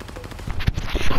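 Gunfire in the Call of Duty: Modern Warfare video game, an enemy shooting from the stairs: one loud, close shot cracks out mid-clip amid rumbling in-game ambience and scattered softer pops, with no talking.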